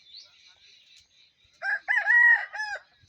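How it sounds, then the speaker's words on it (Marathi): A breeder rooster crows once, loud and close, in a long wavering call in the second half, after quieter high chirps of birds at the start in an overcast rural farmyard. "हा ब्रीडर कोंबडा हा खूप त्रास देत आहेत."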